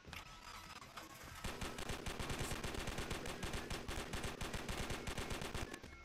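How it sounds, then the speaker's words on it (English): Rapid machine-gun cover fire in a war video game, a dense rhythmic burst of shots that starts after a short lull and keeps hammering loudly for several seconds. "Does machine gun give you cover fire like this guy here?"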